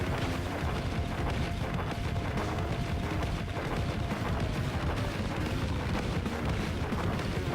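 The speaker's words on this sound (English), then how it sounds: "Oh, this weapon's good. Grenade launcher kicks ass." Grenade launcher firing in the retro shooter Xeno Crisis on the Mega Drive: a dense, continuous wash of booming blasts and explosions over game sound, steady and loud throughout with no talk.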